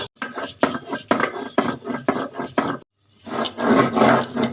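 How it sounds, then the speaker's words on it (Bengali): Spices including radhuni, nigella, cumin, ginger and green chillies are ground on a stone slab with a grinding stone: rough, rhythmic scraping strokes about every half second, close and fairly loud, then a brief pause and a longer continuous grinding rub. "আমি এক এক করে মশলাগুলো সব এর মধ্যে দিয়ে শিলের মধ্যে দিয়ে দেব"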